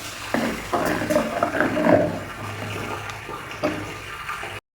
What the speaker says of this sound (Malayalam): തൈരുണ്ടല്ലോ, ഞാൻ മിക്സിയിലൊന്ന് അടിച്ച് വെച്ചിട്ടുണ്ട്, അത് ഒഴിച്ച് കൊടുക്കാം